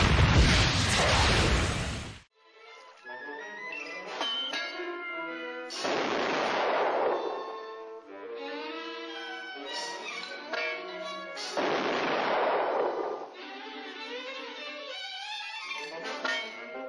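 Several heavy booming blasts of naval gunfire in a James Bond movie scene, spaced a few seconds apart with music and ringing tones between them.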